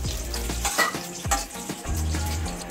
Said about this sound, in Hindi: सिंग दाना को हल्का सा फ्राई कर देंगे